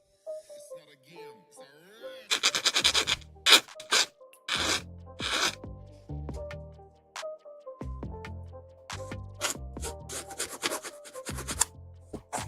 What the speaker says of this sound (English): Basically rubbing it gently, not really filing it with much force.